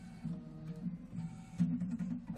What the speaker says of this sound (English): Load the machine with that color thread. And we'll stitch this out.